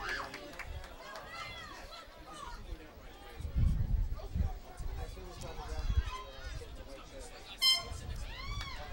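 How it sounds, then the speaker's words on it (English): A brief air horn blares near the end of a boys' high school lacrosse county final between Wayne Hills and DePaul, cutting over crowd chatter and running commentary voices. "And there's the air horn, Steve."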